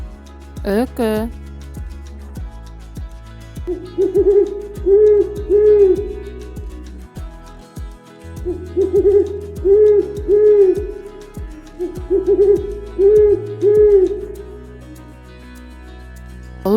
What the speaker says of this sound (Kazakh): Үкі.